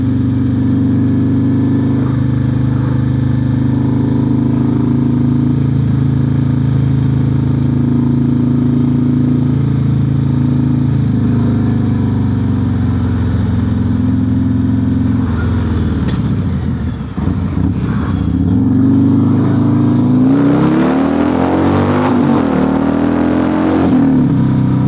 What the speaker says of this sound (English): Boy, that's a lot of traffic.